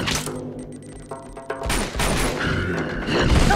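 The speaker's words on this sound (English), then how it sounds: "Just keep shooting." Rapid bursts of gunfire fill a combat sequence in the video game Uncharted 2: Among Thieves, loud and close, with a dense volley building after a short pause and no talk over it.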